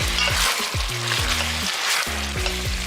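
Cumin, coriander and other spice powders fry in an oiled pan for a Hyderabadi dish, a loud steady sizzle broken by repeated scraping strokes as the mixture is stirred.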